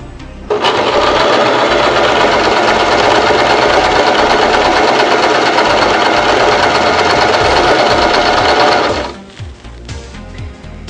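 A Janome 1117S sewing machine stitches at varying stitch lengths in one loud, continuous burst of motor whir and rapid needle clatter, starting abruptly and cutting off cleanly before a quiet tail.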